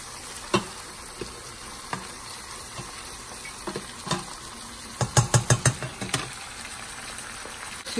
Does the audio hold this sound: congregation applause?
no